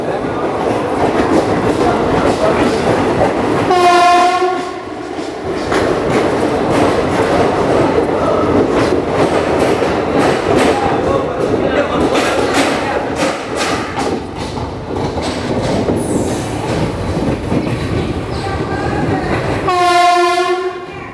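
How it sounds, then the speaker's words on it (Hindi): The Marathwada Express rolls into Lasur station with a loud, steady rumble of wheels and carriages, and a horn-like tone sounds near the start and again near the end. "ग्यारह बजकर 8 मिनट पर हमारी ट्रेन पहुंची है लासूर।"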